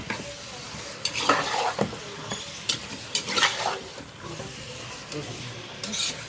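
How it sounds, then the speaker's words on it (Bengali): Braised beef being stirred in a pot with spices, giving soft scraping and sizzling spoon strokes in irregular bursts, fairly quiet and close with no talking. "10 মিনিট পরে আমি কষানো মাংসটা নেড়ে দিলাম"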